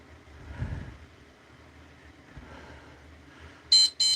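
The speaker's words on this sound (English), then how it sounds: "let me turn off the timer, which is starting to sound very, very sick, like it's got a very, very dead battery" An auction countdown timer with a nearly dead battery gives two short, weak electronic beeps at the end, after a stretch of quiet room noise.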